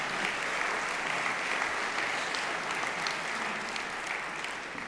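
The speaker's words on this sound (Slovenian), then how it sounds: "Služijo aplavz." Dense, sustained applause from an audience at the Slovenska gazela 2018 awards ceremony, an even wash of many hands clapping without a break, no talk.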